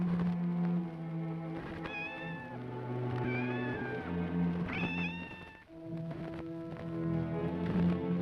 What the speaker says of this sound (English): Oh, it's only a cat.